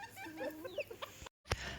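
Pekin bantam hens in the black mottled-white colour variety cluck softly nearby, with warbling low calls and short chirps over a quiet farmyard background, then a brief dropout and one sharp sound.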